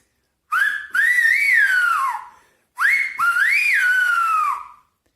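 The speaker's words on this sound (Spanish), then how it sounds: "usted las repite y después las silba" Whistled speech from Tenerife performed by Juan Oliva: two loud, close, melodic whistled phrases with rising and falling pitch glides, the same call given twice with a short pause between, and no talking.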